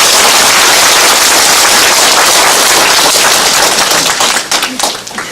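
A dense, loud burst of applause from a large crowd at a citizens' committee meeting in Jecheon, honouring city council members. Clapping stays continuous for several seconds, then thins into scattered claps near the end.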